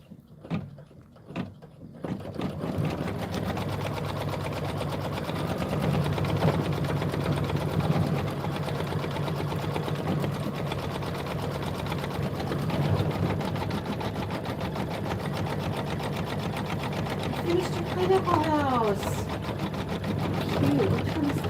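A domestic embroidery sewing machine works a satin stitch on a quilt block, its needle humming in a steady rapid whir after a few opening clicks, with a brief rising whine near the end.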